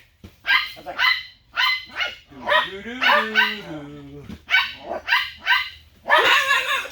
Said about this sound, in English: Good dog, Squirrel.